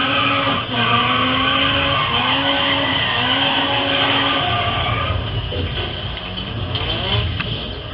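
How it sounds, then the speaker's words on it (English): A modified Nissan S13 200SX with a Rocket Bunny spoiler drifts in the racing game GRID Autosport, its tires squealing in long wavering tones over a steady revving engine throughout. "That's actually a really good drift"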